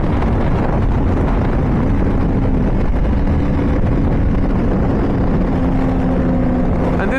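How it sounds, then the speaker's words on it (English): A high-horsepower superbike at full throttle on the German Autobahn, its engine roaring loud and continuous with heavy wind buffeting over the microphone throughout, any exhaust pops buried in the steady drone. "this exhaust, it shoots flames like you wouldn't imagine. It pops and it flames like crazy"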